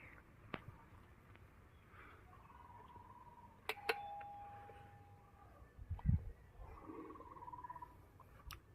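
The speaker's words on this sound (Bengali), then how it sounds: "কলিং বেলটা এখন দিমু আমি।" An electric calling bell at the gate of a village house rings once with a short click and a steady tone lasting about a second and a half. It sounds faint against quiet outdoor ambience.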